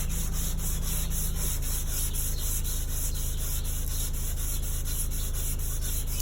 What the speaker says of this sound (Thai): วิธีขัดแบบนี้นะครับ